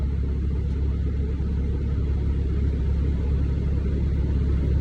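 A car engine hums steadily while driving over hills, a low continuous rumble with moderate revs, fairly constant in level and heard alone without talk.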